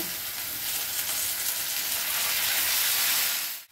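Chopped tomato frying with salt and turmeric in a hot pan, giving a loud, steady sizzle that runs unbroken before cutting off abruptly at the end.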